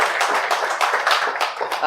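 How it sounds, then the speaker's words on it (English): Scattered applause from a luncheon audience, a steady patter of hand claps lasting a couple of seconds with voices murmuring beneath. "You can applaud now."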